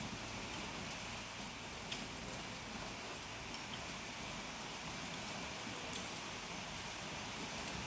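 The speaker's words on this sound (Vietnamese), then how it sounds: "Ông trời đang mưa á." Gentle rain keeps falling outside a rural Vietnamese kitchen on a stormy day, a faint, steady wash of drops lasting several seconds without speech.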